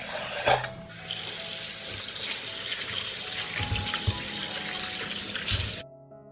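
Fresh tomatoes are washed under a running kitchen tap: a brief clatter, then a steady, close rush of water over the fruit with faint handling sounds, ending abruptly as the flow stops.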